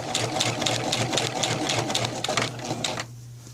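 A sewing machine stitches a suit coat seam from chalk mark to chalk mark, a steady rapid whirring with regular needle clatter, close and loud, stopping just before the end.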